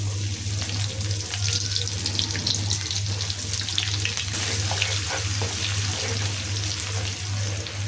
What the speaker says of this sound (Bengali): মাছগুলোকে একটু হালকা করে ভেজে নেব।